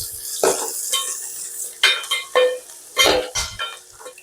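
Onions and green chillies sautéing in hot oil in a pan while a paneer butter masala is being cooked, heard as a few separate scraping stirs and soft sizzles of utensil against the pan, close by and without talk.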